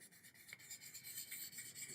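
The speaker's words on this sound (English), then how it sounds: "This happens to be 1200 grit and a hard rubber sanding block." Rapid rhythmic rasping of moistened 1200-grit wet/dry paper on a hard rubber sanding block rubbed back and forth on a hard surface, steady and soft, with no voices.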